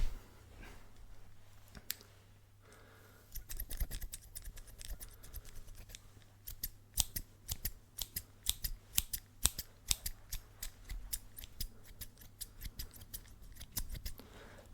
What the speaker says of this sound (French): Des petits coups de ciseaux.